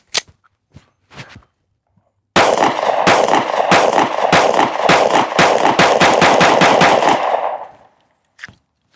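Sig P365 pistol firing Sig Sauer 365 V-Crown 115-grain JHP rounds, a rapid string of about a dozen loud, sharp shots in quick succession, preceded by a few handling clicks and followed by a single metallic clink.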